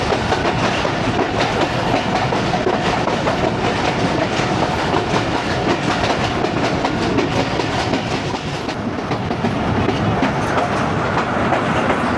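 Passenger train 9UP Allama Iqbal Express rolls on rail tracks from Lahore to Narowal, a loud, steady rumble with rhythmic clickety-clack of wheels heard from inside the carriage throughout.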